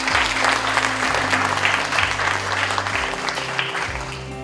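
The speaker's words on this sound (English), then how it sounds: "all our winners a round of applause." An audience at an awards ceremony gives its winners a round of applause. Dense, even clapping fills the room and fades slightly toward the end, with a low droning sound and faint voices beneath.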